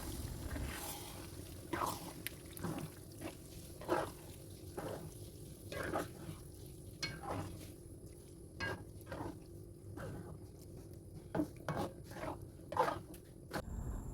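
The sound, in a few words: stirring arrabbiata pasta sauce in a pan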